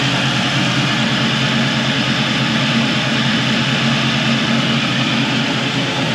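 A 2006 Ford Mustang engine runs loud on a cold start while warming up, a steady, droning roar that holds level and close throughout with no voices.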